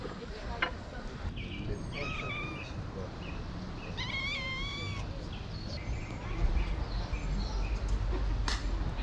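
A cat meows several times in short rising cries amid loud outdoor background noise, with people talking nearby on a dive boat.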